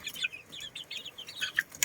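Young chicks peep in a short burst of quick, high chirps, close and fairly soft, with no talk.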